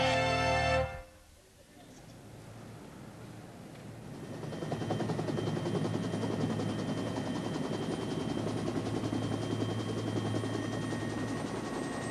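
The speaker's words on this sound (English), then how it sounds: "That's a rather tasty-looking chopper." A helicopter's steady rotor thrum and engine whine rising and holding loud and close after a brief abrupt opening sound, with some talking mixed in.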